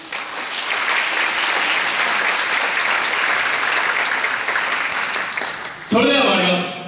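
An audience at a student YOSAKOI dance exchange event applauds in a long, even wash of clapping that cuts off abruptly near the end as a voice calls out loudly.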